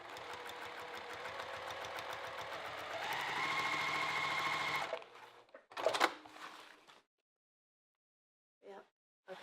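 A sewing machine runs a continuous stretch of top stitching on a sweatshirt, its needle chattering quickly and speeding up midway, then it stops and is followed by a few brief handling bursts and near silence.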